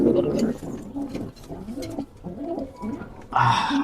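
Pigeons coo in a loft with repeated soft, throaty, rolling calls close by, and a brighter flutter or call near the end.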